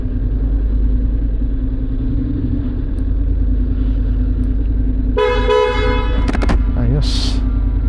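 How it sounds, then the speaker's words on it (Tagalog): A Honda X-ADV 750 motorcycle's horn honks in short bursts near the end, over a steady engine rumble and traffic noise. "buti na lang bumisina ako."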